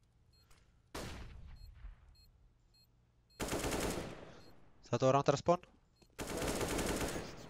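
Counter-Strike: Global Offensive gunfire comes in four sharp bursts, one brief shot followed by longer automatic volleys, loud and close, with a commentator talking between them.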